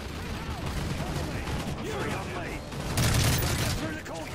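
Assault rifle fire in Call of Duty Modern Warfare 3, dense bursts of shots blending with game effects and a louder surge near the end, while a person talks over it.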